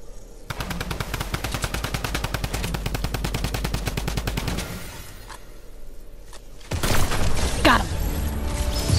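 A long, rapid burst of automatic gunfire in Fortnite rattles for several seconds, then fades to quieter game effects, followed by a louder sweeping crash and more shots near the end.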